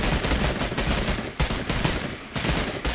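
Sustained rapid assault-rifle fire in the video game Realm Royale, loud and close, continuous bursts with two brief pauses, no talk over it.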